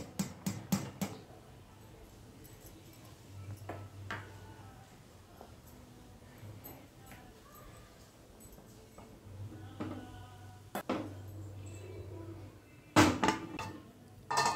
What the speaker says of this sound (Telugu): ఈ స్టవ్ మీదకి నేను మటన్ గిన్నె పెట్టేస్తాను, బిర్యానీ గిన్నె